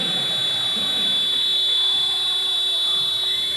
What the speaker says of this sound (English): very loud shot clock buzzer